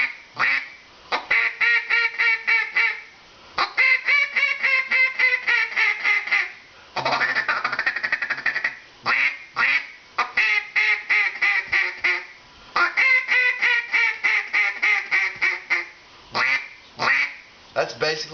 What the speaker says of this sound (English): here's what it sounds on my Echo diamond wood timber call.